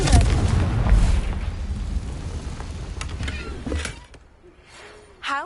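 A Confringo blasting spell explodes in Hogwarts Legacy, played on PS5, with a loud booming burst and rumbling roar that trails off, followed by quieter creaks and a final soft thump.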